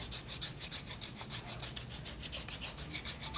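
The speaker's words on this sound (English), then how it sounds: "I can actually get both hands on this and work it like almost like a rasp." A carved wooden comfort bird held in a small vise is worked over by hand like a wood rasp, giving steady rhythmic scraping strokes back and forth, close and fairly quiet with no talk.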